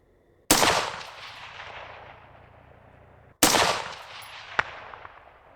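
Two rifle shots firing tracer rounds at night at long-range targets, each a sharp loud crack trailing into a long fading echo, about three seconds apart, with a faint distant impact after the second.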